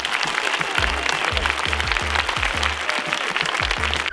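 Loud, dense applause from a large audience fills the whole stretch without a break, with a steady low rhythmic thumping running underneath the clapping.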